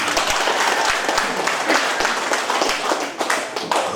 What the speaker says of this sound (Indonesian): Tepuk tangan deh Ibu